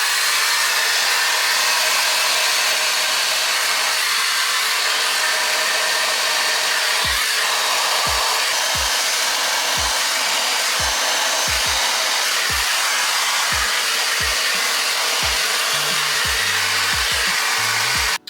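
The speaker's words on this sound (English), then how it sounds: "I'm going to use my diffuser" Hair dryer with a diffuser attachment drying braided hair, a loud continuous whooshing roar with faint rhythmic low thumps underneath.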